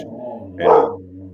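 A hyper dog lets out a single short, fairly close bark in a home, with faint low background hum before and after.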